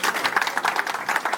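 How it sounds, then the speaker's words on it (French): Applause from the audience at a ceremony, brief and moderately loud, with the clapping rising and falling in short bursts. "Voyez l'applaudir, s'il vous plaît."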